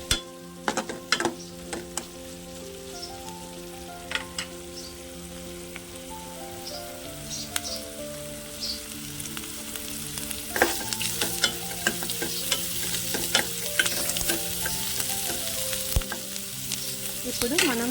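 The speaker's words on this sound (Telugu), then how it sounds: "సిమ్లో పెట్టుకొని బాగా అల్లం వెల్లుల్లి పేస్ట్ మంచిగా వేగాలండి" Ginger garlic paste fries in a pan on low heat, giving a steady close sizzle with crackling spits throughout, while a tonal hum runs beneath it.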